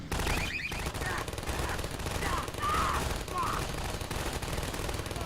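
Automatic turrets fire at antlions in Half-Life 2: Episode Two, a steady stream of rapid gunfire over dense battle noise, with creature shrieks and a voice faintly underneath.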